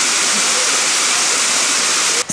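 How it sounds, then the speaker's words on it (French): A waterfall in Doi Suthep national park pours with a dense, constant roar of rushing water, loud and close, filling the whole stretch with steady noise. "Bref, à la cascade."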